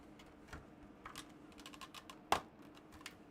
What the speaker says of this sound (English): We need to hear that clicking noise.